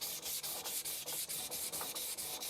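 Steady back-and-forth rubbing of a knife blade on a vitrified 1000-grit diamond sharpening stone, with a chalky, pasty scrape on each stroke. About a dozen even strokes come in a quick regular rhythm, close and clear with no talking.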